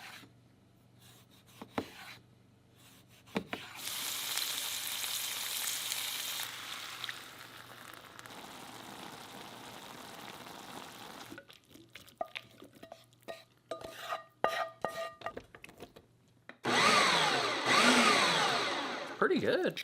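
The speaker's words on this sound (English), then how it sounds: "I'm gonna get this liver thinly sliced up and cooking with the rest of the ingredients." Thinly sliced caribou liver with onions, garlic and potato fries in a pan, a soft steady sizzle that swells and fades with stirring and scraping, with brief speech and louder frying toward the end.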